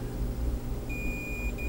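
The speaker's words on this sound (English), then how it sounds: "So two of these are going to beep when they touch each other." A multimeter's continuity beep sounds during probing of a pinball machine trough opto board, a Bally Williams Revenge From Mars: a steady high electronic tone held for about half a second, a short break, then a brief second beep over low room hum.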